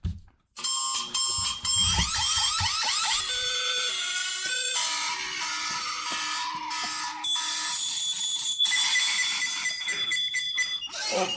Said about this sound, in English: Because it just pisses me off when I hear this fuck ass alarm.